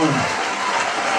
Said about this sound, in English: you just keep that applause going